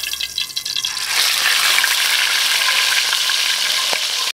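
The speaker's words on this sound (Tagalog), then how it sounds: "May tuna ako dito, piprituhin ko lang muna." Tuna sizzles loudly in hot oil in a pan, a steady crackling hiss that swells after a brief softer start.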